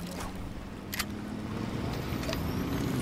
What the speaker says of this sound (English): They're in a car, they're about to boot me.